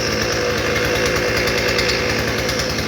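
An Earthquake MC43 cultivator engine, fitted with a new spark plug, fuel lines and carburetor, runs steadily with a loud, close, buzzing small-engine drone and no talk over it.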